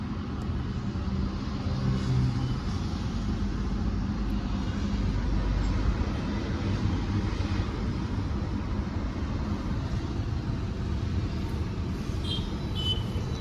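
Skoda Superb TSI engine idling on a CNG kit with the air conditioning running, giving a steady, even low rumble with a faint fan-like hiss and no speech.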